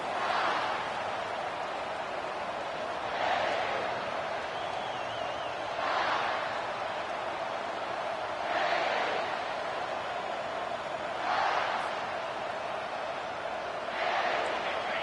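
Roaring stadium crowd at an American football game around the opening kickoff, a broad steady wash of cheering that swells in repeated surges every few seconds.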